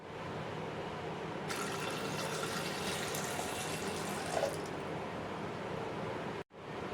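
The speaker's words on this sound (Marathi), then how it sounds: "छोले मी 2 पाण्याने स्वच्छ धुवून घेतलेत" Chickpeas are rinsed with water, a soft, continuous pouring and sloshing heard up close at low volume, with a brighter gush in the middle and a sudden stop near the end.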